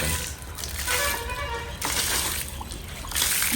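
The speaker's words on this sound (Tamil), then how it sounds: "நம்ம வீட்டு முன்னாலாம் தண்ணி ஊற்றுறோம்." Water being poured onto a newly laid concrete road in front of a house, splashing and trickling in uneven bursts that swell and fade, close by and fairly loud.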